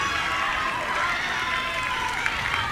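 Stadium crowd at an LSU vs USM women's soccer match cheering and rallying, a steady broad roar of many voices in the distance.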